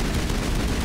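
Gunfire from the video game Mass Effect 1: Legendary Edition, a dense, steady burst of rapid shots filling the whole short moment at constant loudness, with no talking.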